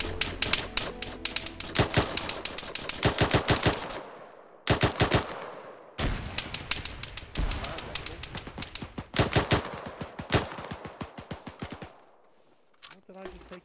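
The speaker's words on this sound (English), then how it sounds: "Is it me or are we getting fired at from the south?" Rapid bursts of automatic gunfire from a firefight in ArmA 3, loud and close, crackling in long strings with short pauses and ending in scattered single shots; a voice speaks briefly over the shooting.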